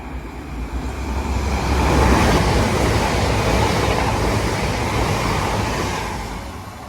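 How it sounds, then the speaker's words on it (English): An express train bound for Liverpool Lime Street rushes past at St Helens Junction, a broad roar swelling from a distance, peaking near, then slowly fading. "Next train to zoom past is a expanding express train going to Liverpool Lime Street."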